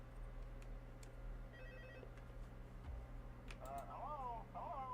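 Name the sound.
phone call in video game Five Nights at Freddy's 2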